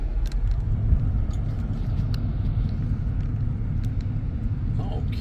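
Steady low rumble of a car being driven slowly around a restored pioneer ghost town in Chesterfield, Idaho, heard from inside the vehicle, continuous and even with faint occasional clicks.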